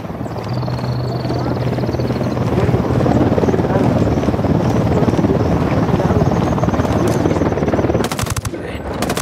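A helicopter in the video game Ghost Recon Wildlands drones with a steady loud rotor thrum under bursts of gunfire, and a sharp crackling burst comes near the end.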